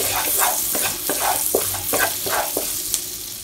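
Chopped garlic and ginger frying in a pot, stirred continuously. A loud, steady sizzle runs throughout, with repeated rhythmic scrapes of the spoon close by.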